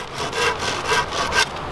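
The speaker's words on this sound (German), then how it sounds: "Als nächstes säge ich von diesem ganz langen Rute mal hier einen Wanderstock" A hand saw cuts through a long wooden rod to make a walking stick, giving steady back-and-forth rasping strokes, close and alone with no talk.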